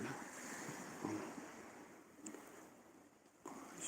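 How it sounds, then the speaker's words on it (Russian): Black Sea surf at evening along the coast near Koktebel: a steady broadband wash of waves with gentle swells, mixed with wind noise on the microphone, continuous and moderately distant, with no talking. "Море слышно."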